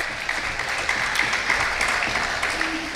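Audience at an FFA ham and bacon auction sale clapping steadily for a buyer, a sustained crowd of applause with scattered sharper claps, fairly close and without speech over it.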